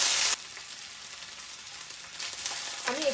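Ginger paste frying in a pan for a paneer curry, giving a steady close sizzle after a brief loud burst at the start, with faint stirring scrapes near the end.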